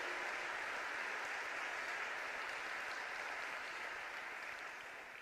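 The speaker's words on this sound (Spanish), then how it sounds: "Vamos a darle un fuerte aplauso." A church congregation claps together in a soft, distant wash of steady applause that holds evenly and then slowly fades at the end, with no one speaking.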